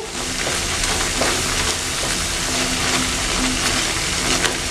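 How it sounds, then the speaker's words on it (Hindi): Peach jam cooking over a medium flame while a spoon stirs it continuously, giving a loud, dense, steady bubbling hiss with faint scraping throughout. "चम्मच हिलाते रहेंगे मुसलसल ताकि नीचे ना लगे"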